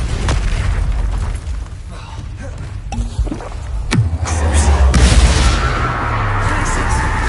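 A Bombarda spell explosion in Hogwarts Legacy lands as a deep, loud boom partway through. A rumbling low tail and crackling debris follow, and other spell effects and game ambience surround it.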